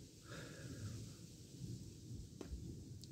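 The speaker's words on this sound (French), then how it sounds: "on a un orage multicellulaire" Thunder from a night-time multicell thunderstorm, a low distant rumble rolling through the whole stretch with a brief sharper crack partway, faint and alone.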